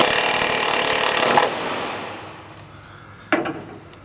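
A power tool tightens the mounting bolt of a Platinum 4-inch oval side step on a 2015 GMC Canyon. A loud, close, continuous whir lasts about a second and a half, then fades, and a short sharp burst follows near the end.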